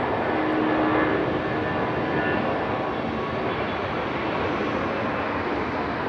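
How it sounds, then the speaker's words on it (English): An Airbus A320 departs Raleigh-Durham International Airport at night, its engines a steady, loud, broadband roar that holds constant throughout with no voices. "Sounding departure here. A320."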